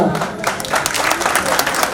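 Audience applause at a family tuladan ceremony, welcoming a relative to the stage: dense, steady clapping from a crowd, fairly loud and continuous, with some voices mixed in.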